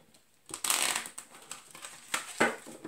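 A deck of tarot cards is shuffled close by, a soft papery riffle burst followed by several lighter flicks and rustles, with no speech.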